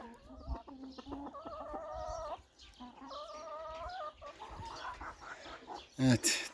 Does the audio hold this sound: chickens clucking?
yes